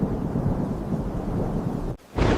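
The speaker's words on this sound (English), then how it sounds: "A powerful storm rolled across the land." A powerful thunderstorm produces a loud, continuous low rumble of thunder that breaks off briefly and then surges back heavily.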